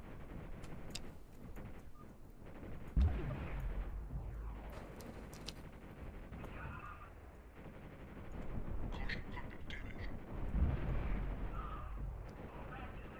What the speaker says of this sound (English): That's the little missiles.